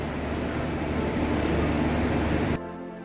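A Vistadome tourist train at Rajabhatkhawa station in the Dooars gives a loud, steady rumble and rattle of railcars that cuts off abruptly, leaving a quieter hum.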